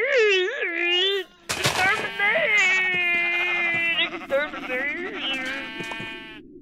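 Sheep in the Minecraft video game bleat in a loud, wavering series of cries, close and clear, with a sharp burst and other game sounds mixed in.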